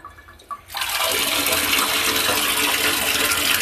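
After a brief quiet, a newly installed faucet opens and water gushes out at strong pressure, a loud steady rushing stream that continues to the end.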